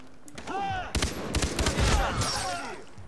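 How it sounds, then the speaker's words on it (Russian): A rapid burst of AK rifle fire in the video game Far Cry 3, sharp repeated cracks with voices talking over and around the shots. "Он, правда, перед этим очередь из калаша успел выпустить"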